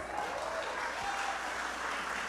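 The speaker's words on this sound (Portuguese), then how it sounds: "uma salva de palmas, Jeremias aqui" Applause from a church gathering at a Baptist missions convention in São Paulo, a steady dense wash of clapping hands filling the room at moderate level, with no talk over it.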